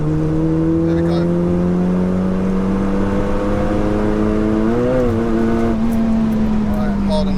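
A 607bhp SEAT Leon Cupra accelerating hard on a race track, its loud engine note rising steadily in pitch through a gear with a brief shift dip, heard from inside the car under a driver's talk.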